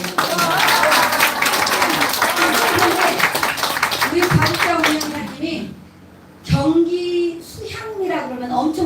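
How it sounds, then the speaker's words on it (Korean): Applause from an audience at a community gathering after dinner, steady dense clapping for several seconds that thins and briefly drops out before voices resume, with speech and chatter mixed throughout. "일단 박수 한번 보내요."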